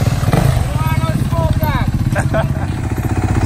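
A 450cc dirt bike engine runs with a loud, close, pulsing rumble and brief revs, while people talk over it.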